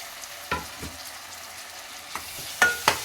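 Tomato frying in a pan with ginger garlic paste, a soft steady sizzle broken by several sharp stirring scrapes and clinks, close and fairly quiet with no talk.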